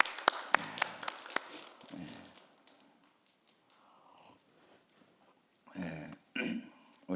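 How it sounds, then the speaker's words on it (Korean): A church congregation claps for a welcomed guest, a brief burst of sharp claps up front that fades out, with scattered shuffles and a couple more short bursts of clapping later. "다시 한번 우리 큰 박수로."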